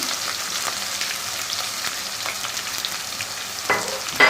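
Steady hissing sizzle of green chilies frying in a hot pan, with occasional louder crackles and pops near the end.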